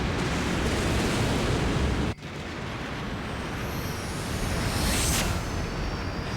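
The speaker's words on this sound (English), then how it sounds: "We outrun the explosion." In the Mega Man X4 video game, a roaring explosion rumbles as a dense, continuous blast of noise, cuts out abruptly, then resumes as a sustained rushing roar.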